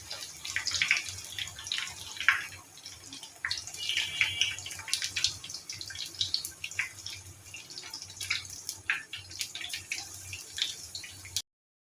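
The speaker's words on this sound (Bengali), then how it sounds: "আমি এই ব্যাটারের মধ্যে ঘুরিয়ে নেব ঘুরিয়ে আমি তেলের মধ্যে ছেড়ে দিচ্ছি" Thin potato slices dipped in batter sizzle in hot oil with irregular crackles and pops. The close, fairly quiet spatter keeps going for several seconds before cutting off abruptly.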